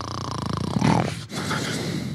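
A man snores loudly and close by, a rough, buzzing rumble of drawn breaths that repeat in a slow, steady rhythm with a short gap between them.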